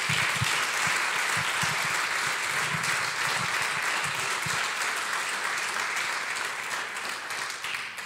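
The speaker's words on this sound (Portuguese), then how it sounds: "Então dê uma salva de palmas a Ele." A church congregation claps together in steady, sustained applause that fills the room evenly, a few low thumps and murmurs underneath, slowly easing toward the end.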